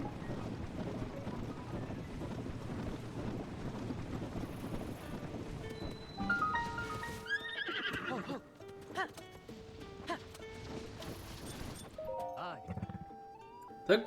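A horse neighs and whinnies in the video game Tears of the Kingdom, several rising and falling calls with clip-clopping hooves, over a windy snowy backdrop with a voice speaking at times.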